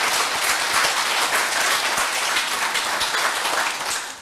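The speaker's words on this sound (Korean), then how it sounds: "여러분 참모님의 큰 박수를 한번 올려주십시오" A congregation at a Sunday worship service breaks into dense, steady applause that continues at full strength for several seconds before easing slightly at the end.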